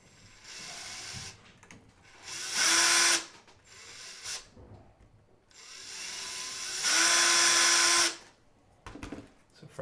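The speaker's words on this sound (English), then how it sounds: "I use the MDF piece underneath because I can drill" A power drill bores through a cutting mat into an MDF backing board, two loud sustained bursts of whining, grinding drilling separated by quieter handling and shuffling noises, close up with no talk.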